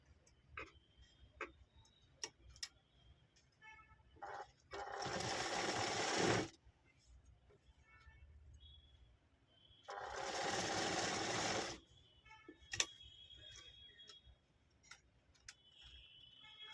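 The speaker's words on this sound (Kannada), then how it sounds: "ಇವಾಗ ಸುತ್ತ ಇದನ್ನು ಸ್ಟಿಚ್ ಮಾಡ್ಕೋಬೇಕು, ಯಾಕೆಂದರೆ ಓಪನ್ ಆಗಬಾರ್ದು." A sewing machine stitches around the edge of an old saree being made into a bedsheet, in two short bursts of steady buzzing separated by quiet stretches with faint ticks and clicks.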